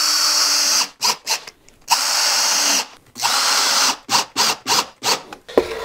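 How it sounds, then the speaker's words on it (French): A power drill drives a screw into a piece of wood: loud sustained whirring bursts, then a string of short rapid trigger pulses. "je peux me permettre de visser directement dans ma pièce de bois"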